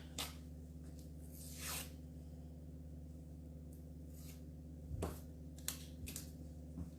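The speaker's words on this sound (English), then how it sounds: "Then let's go ahead and cut up some of the other ones." Scissors snipping Christmas craft material for a tree project, a few short crisp cuts spaced out over a steady low background hum, fairly close and quiet.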